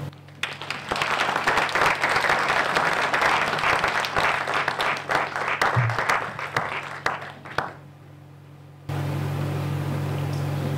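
An audience at a university professorial inauguration applauds, dense sustained clapping from many hands that fills the hall, then thins out and stops, leaving quiet room tone.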